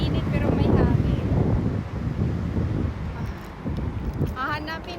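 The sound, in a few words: wind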